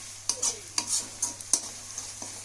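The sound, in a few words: chicken frying and being stirred in a pan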